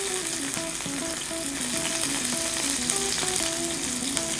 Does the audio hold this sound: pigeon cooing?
no